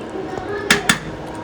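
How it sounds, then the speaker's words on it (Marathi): Two quick metallic clinks from a lid set onto a cooking pot of home-style matar paneer masala simmering on low heat, sharp and close against a quiet kitchen background. "झाकण ठेवून 2 मिनिटं ठेवते भाजीला"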